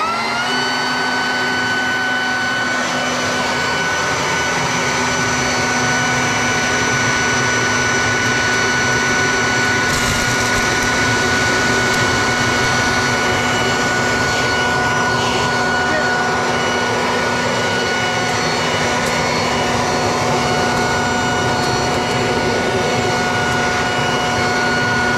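Two Ryobi and Makita 18V brushless blower vacs run together on their highest setting, a loud, steady, high-pitched whine with a broad airy roar that holds without pause from start to finish.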